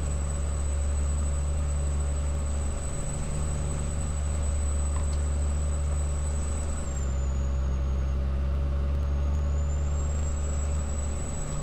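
A Kenworth W900 truck in a driving game rumbling along under a constant low engine drone, with a steady high whine that dips and returns midway and a short air-brake hiss.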